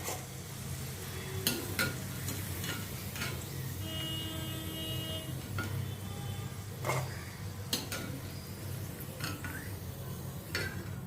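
Potato fries for spicy masala fries frying in hot oil, a steady crackling sizzle with repeated stirring and scraping clicks of a utensil against the pan throughout, close and continuous, no talk.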